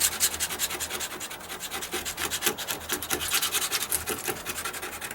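A putty knife scrapes mildew from a wooden deck in steady back-and-forth strokes, a rough close-up rasping with no voices.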